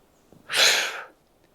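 One sharp breathy exhalation burst like a forceful "hup", used as a Valsalva breathing cue during a kettlebell jerk dip, close and brief and alone, made by a voice.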